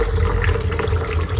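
Water gushes steadily into a cooking pot for a home cough and cold remedy, a close, loud, continuous pouring splash lasting just over a second.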